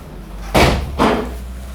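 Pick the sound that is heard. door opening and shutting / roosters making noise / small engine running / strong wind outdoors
door opening and shutting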